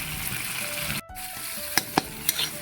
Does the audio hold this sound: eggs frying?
yes